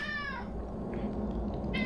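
A cat in Honkai: Star Rail lets out a clear descending meow at the start and a brief second mew near the end, both close over a soft steady ambient drone, no talking.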